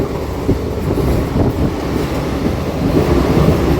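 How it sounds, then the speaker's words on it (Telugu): A DEMU train runs along the track and picks up speed, giving a steady, loud low rumble with rhythmic rattling and clatter from the carriages, heard from inside with some wind noise. "బండి స్పీడ్ అందుకుందండి"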